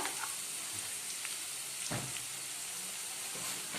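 Onions sauté in oil with chillies and curry leaves for banana flower thoran, giving a steady, close hiss of frying with an occasional soft stir.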